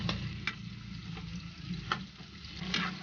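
Chicken feet adobo frying in plenty of oil, stirred in the pan: a steady mid-level sizzle with sharp clicks and scrapes of the utensil against the pan at irregular intervals, no talking.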